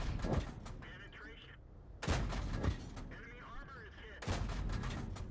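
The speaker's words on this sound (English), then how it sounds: "So I'm trying to just get some cheeky shots in here with the Hellcat." Tank cannon shots from a Hellcat tank destroyer in the World of Tanks video game: three loud, sharp blasts spaced about two seconds apart, each trailing off into battle noise and rumble.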